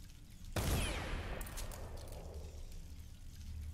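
A single loud gunshot blast in the game Dishonored sounds sharply up close, then fades into a long rumbling, crackling decay over a low background hum.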